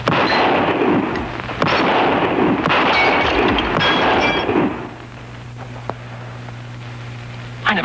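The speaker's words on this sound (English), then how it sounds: "I never saw shooting like that before." A masked rider's sharpshooting, a rapid run of loud, close gunshots cracking one after another for several seconds before fading to a quiet hum with a lone faint pop.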